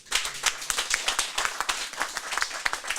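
Brief burst of audience applause in a studio setting, dense overlapping claps at moderate loudness lasting a few seconds.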